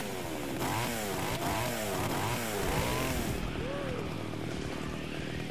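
Chainsaw revving in the video game Splatterhouse, a loud buzzing engine with repeated rising and falling pitch sweeps, then a steadier drone, alongside game music and effects.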